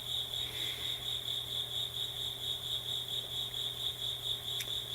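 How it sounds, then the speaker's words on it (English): A cricket chirps persistently indoors, a continuous, even high-pitched trill with steady pulsing, faint but clear against a low background hum, with no voices. "there's the persistent sound of a cricket here in the room where we are"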